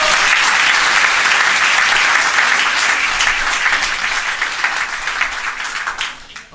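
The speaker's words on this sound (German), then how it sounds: "Zum Schluss nochmal einen ganz kräftigen Applaus für unsere Bühnenbildner, den Kammerhofer Michi" Loud, dense applause from a theater audience, sustained steadily and then thinning and fading toward the end, with no voices over it.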